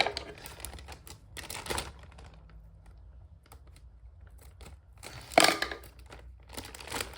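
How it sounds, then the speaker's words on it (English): Plastic packaging is torn open while unboxing an Eofauna Deinotherium figure, heard as close, intermittent bursts of crackling and ripping separated by quiet pauses. "There we go, now it's tearing."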